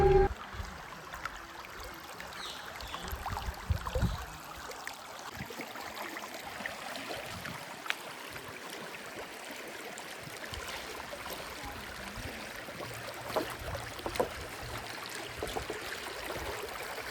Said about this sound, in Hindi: ये जो पानी आ रहा है ये ऊपर पहाड़ों से होता हुआ आ रहा है